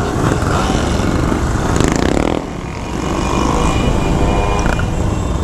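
Shineray motorcycle engine revving and accelerating up close, a steady loud drone that dips briefly around the middle before picking back up, no talk over it.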